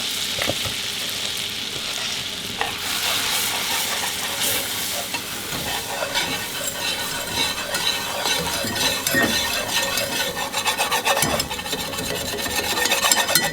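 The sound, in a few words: flour being stirred into a pan for broccoli casserole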